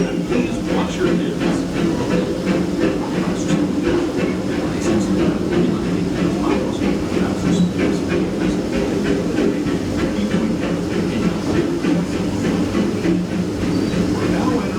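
The Disneyland Railroad train rolls along with a steady rumble and rhythmic clacking of wheels on track, a soft hiss running underneath, continuous and close.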